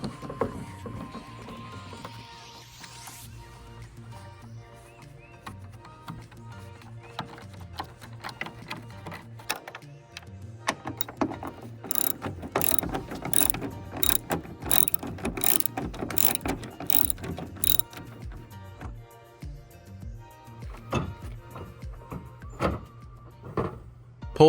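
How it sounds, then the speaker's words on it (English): A ratchet clicks in quick bursts while removing screws from a 2011-2016 Ford Super Duty headlight, the sharp ticks close and fairly quiet, picking up after a slow start. "Starting by removing the 10mm screw under the light and the 2 on the side, and finally by losing the one in the top of the light."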